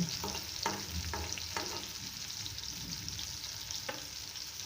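Onions frying in a pan give a steady close crackling sizzle, with a few sharp scrapes and taps of a spoon stirring them at irregular moments.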